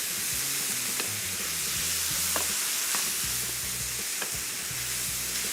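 Cooked shredded beef filling for cheese quesadillas is stirred in a hot pan, a soft steady sizzle with occasional utensil scrapes and taps, close but fairly quiet.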